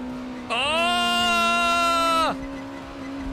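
A race car engine in the video game Assetto Corsa, driven around a loop-de-loop, rises to a loud, steady high-revving whine for nearly two seconds and then cuts off, leaving a low hum.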